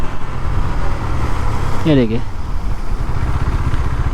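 2023 KTM Duke 390 in Liquid Metal during a rear brake test, its engine a steady close idle-like drone with a brief tonal squeal as it halts, someone speaking briefly over it.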